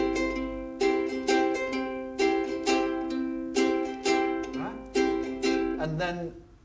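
A ukulele played with a pick-then-strum pattern: a plucked note followed by down and up strums, repeating in a steady bright rhythm. A voice briefly sounds near the end.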